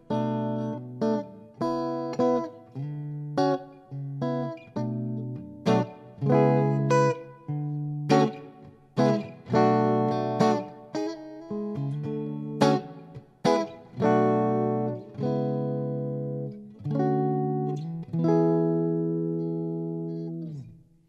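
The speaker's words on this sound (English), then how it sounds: "That was the clean channel on the amp." Clean electric guitar through the clean channel of a Nux Mighty BT40 modeling amp plays a slow sequence of plucked notes and chords, each ringing out and decaying, bright and undistorted, with nothing else audible.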